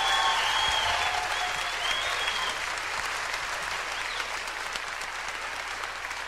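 Live concert audience giving a warm round of applause for a gospel singer's wife, dense clapping from a large crowd that slowly tapers off.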